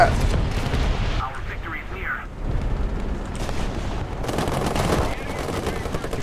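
In a War Thunder tank battle, an artillery strike and rattling gunfire boom and crackle in heavy, rolling bursts, loud and continuous, while a voice talks over the combat.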